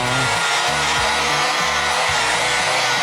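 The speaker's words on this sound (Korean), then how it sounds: "용접 부분을 지워버리고 있습니다." A 3M Cubitron 3 flap disc on a grinder eats a weld off a steel H-beam, giving a loud, harsh, continuous grinding roar with a pulsing low hum from the motor, and no talk.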